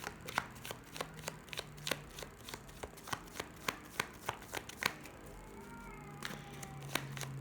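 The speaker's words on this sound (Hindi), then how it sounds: "मैं शफल कर रही हूँ, आप मेडिटेट करें, रिलैक्स हो जाएं." A deck of tarot cards being shuffled by hand, a quick series of sharp riffling snaps at a steady rhythm, close and fairly quiet, with a faint background tone.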